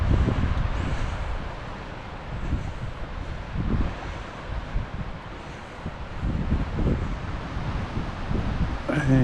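Wind gusts sweep across a forested mountain ridge of live timber, a continuous loud roar and rush with swelling surges, buffeting the microphone close by.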